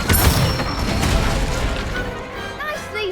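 Incendio fire spell cast in Hogwarts Legacy, a burst of crackling, whooshing magic with dense game effects and a faint voice over it, fading toward the end.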